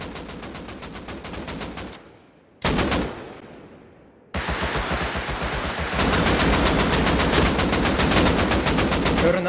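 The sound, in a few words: AK rifle gunfire in video game Rust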